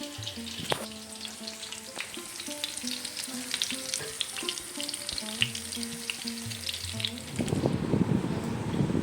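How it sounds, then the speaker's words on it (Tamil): Fish frying in a pan, a steady hissing sizzle heard close up, with faint tonal background hum and a louder burst of crackling spatter near the end, no talking. "ஃபிஷ் ஃப்ரை தான் பண்ணுறேன்"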